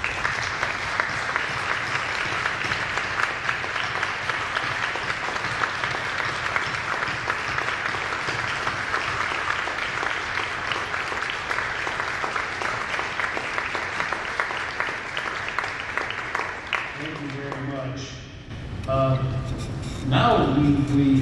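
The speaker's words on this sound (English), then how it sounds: "if we could all give these folks a big round of applause." A Veterans Day ceremony audience gives sustained applause to veterans and guard members standing in the room, a dense, steady clatter of many hands lasting about seventeen seconds before it fades and a voice begins speaking.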